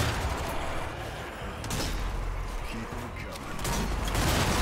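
Rapid gunfire from the zombie shooter Zombie Army 4: Dead War, a dense, continuous clatter of shots and explosions with chaotic game noise running throughout the clip.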